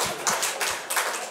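Church congregation applauding during a Sunday service, a short burst of scattered clapping lasting about a second, fairly close.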